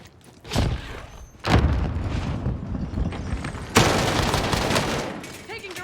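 Video game gunfire comes in heavy bursts: an opening shot, then sustained rattling fire that swells again into a dense, loud barrage near the end.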